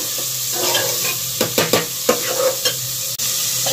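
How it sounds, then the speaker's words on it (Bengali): Chana dal is stirred in a frying pan, with several quick scraping strokes of the spoon cutting through a constant close sizzle. "ছোলার ডালটাকে ভালো করে নাড়িয়ে নিতে হবে।"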